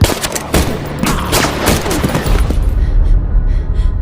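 Gunfire in a film scene: a loud, rapid burst of shots and impacts fills the first few seconds, then drops to a rumbling tail.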